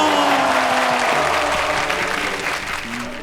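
A church congregation bursts into loud, sustained applause during a Korean Christian worship service, with clapping that slowly tapers toward the end and a faint tonal hum or voice underneath.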